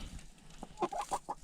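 Chickens cluck in winter cold, a few short, fairly faint calls in a loose irregular series over a low steady background, with no talk.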